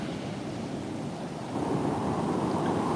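Rough ocean surf at a beach roars as a continuous wash of breaking waves with wind noise, growing louder halfway through and staying heavy to the end; no one speaks.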